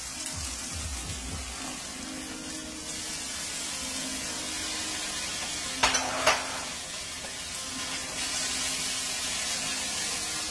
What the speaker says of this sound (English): I want the onion to caramelize a little bit more.